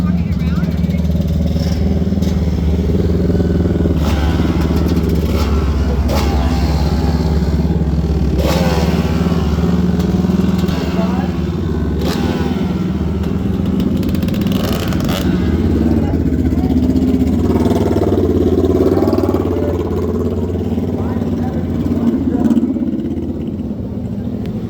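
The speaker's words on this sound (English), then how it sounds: "Big 2-stroker out here." A big Yamaha two-stroke motorcycle revs at a busy street festival, loud engine rasp with repeated throttle blips over constant crowd noise and other engines, people talking throughout.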